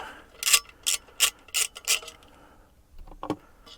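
A ratchet spanner loosens the nuts or bolts on Starlink magnet mounts, giving five or six crisp, evenly spaced metallic clicks close up, then a few softer clicks.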